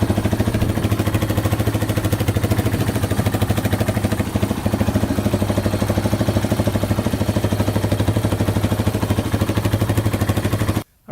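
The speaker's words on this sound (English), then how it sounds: "It actually revs out without the choke on now" A 4x4 ATV engine with a freshly cleaned carburetor revs steadily and loudly at close range for about eleven seconds, a continuous droning roar with mechanical clatter, then cuts off abruptly at the end.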